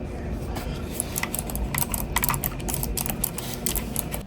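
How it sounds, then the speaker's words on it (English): Buttons on a Razer Raiju V3 Pro game controller give off sharp, mouse-like clicks, pressed in quick irregular bursts over a low steady background hum. "as for the buttons themselves, they have that mouse click on it, which is cool"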